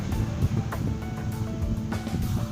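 Seaside ambience on a Thai shoreline on a December afternoon, with waves washing in and wind buffeting the microphone, a continuous low rumble broken by a few brief surges.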